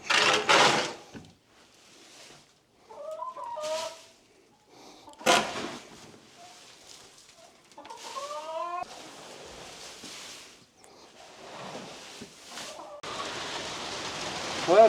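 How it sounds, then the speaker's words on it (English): Summer rain falls in steady broadband hiss during a shift from sunny skies, with scattered thumps, bird chirps and brief knocks over it; no clear thunder rumble stands out. "We went from sunny skies to rain, a little bit of thunder."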